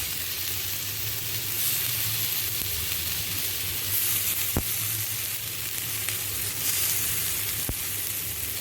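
Spices crackle and sizzle in hot oil for a tempering poured over steamed taro leaf pakodas, a steady bright frying hiss with a couple of sharp pops, close and alone.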